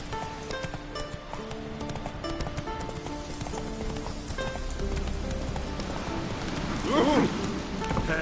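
Hooves of the horse Roach clip-clop in a steady galloping rhythm in a video game, continuous and close under game music, ending with a brief whinny-like cry.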